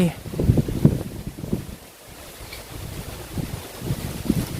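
Strong gusting wind at night buffets the microphone in rough, surging bursts that rise and fall, with people talking over it outdoors.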